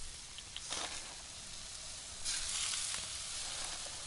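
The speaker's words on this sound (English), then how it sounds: "Oh, the chicken's sizzling." Chicken sizzling as it cooks over a fire in the survival video game DayZ, a steady quiet frying hiss with soft crackles and brief louder flare-ups.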